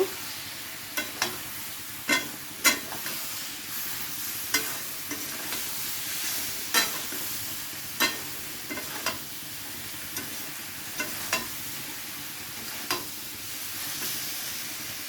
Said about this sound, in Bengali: সামান্য পরিমাণে একটু জল দিয়ে ভালো করে সবজিগুলোকে মশলার সাথে মিশিয়ে নেব।